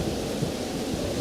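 Steady rumbling storm noise with broadband rain-like hiss and low thunder rumble, continuous and fairly loud, no voices.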